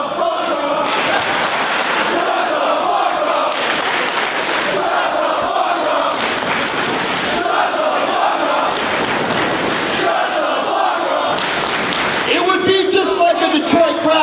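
A loud wrestling-show crowd in Detroit roars and shouts continuously for the whole stretch, with surging waves of jeering and voices mixed through the noise.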